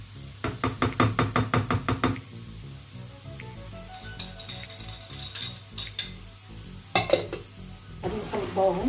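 A utensil stirs water, sugar, oil and cocoa together for a chocolate caramel cake batter, with rapid rhythmic clinks against the bowl, then looser scraping and knocks, close and fairly quiet.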